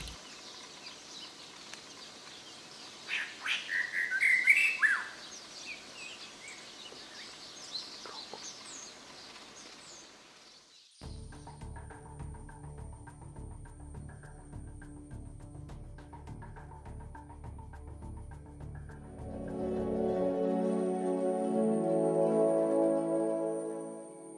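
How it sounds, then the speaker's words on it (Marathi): Birds chirp and sing in a busy, layered chorus, shifting to denser calls with a low hum underneath later on. "पक्ष्यांच्या शिळा कानी येत होत्या."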